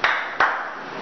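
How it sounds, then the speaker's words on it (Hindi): Two sharp hand claps about a third of a second apart, each loud and close with a short ringing tail, marking a mock mall inauguration. "ताली बजाओ, ताली बजाओ।"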